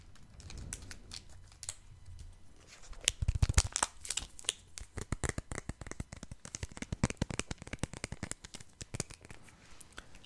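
Naruto card booster packs being opened up close, with crinkling foil wrapper, tearing and dense rapid rustling and flicking of cards, quiet and intimate, with no talking.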